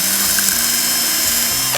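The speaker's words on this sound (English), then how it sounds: "just crimp your pencil in the drill. And this is a regular pencil sharpener, and then you just hold it like that." A pencil held in a power drill spins inside an ordinary handheld pencil sharpener, making a loud, continuous, close mechanical whir with a slightly rattling, grinding texture that cuts off abruptly at the end.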